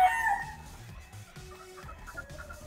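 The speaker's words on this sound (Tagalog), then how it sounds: "Ayan mga Golden Boy pullets natin." Golden Boy chicken pullets on a gamefarm cluck steadily in a close, busy flock, with a brief crow-like call rising at the very start.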